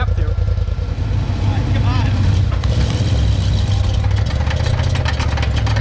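A side-by-side UTV engine cranks and runs at a steady, loud rumble through the whole moment at a tug-of-war event, with people talking over it.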